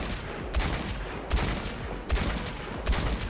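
Repeated gunshots from Overwatch aim training mode, a steady crackle of fire with about four louder punchy shots spaced evenly across the moment, fairly distant and without talk.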